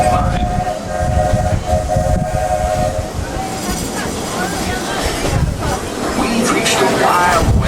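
A Walt Disney World park train rolls along with steady rail clatter, and a whistle rings out in the opening seconds before the mix turns busier. Talk runs over the sound throughout.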